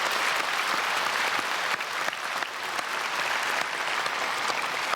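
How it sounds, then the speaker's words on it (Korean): A church congregation at a special early-morning service applauds steadily, dense even clapping filling the room for a few seconds without talk. "우리 준비위원들도 끝까지 승리할 수 있도록 크게 한번 박수해 주시면 감사하겠습니다."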